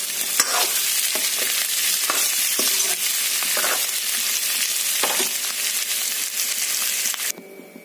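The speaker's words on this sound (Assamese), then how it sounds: "প্ৰথমে মই আলুখিনি ফ্ৰাই কৰি ল'ম।" Potatoes frying in hot oil in a kadai, salted, give a steady loud sizzle with a few clinks and scrapes of stirring throughout, cutting out abruptly near the end.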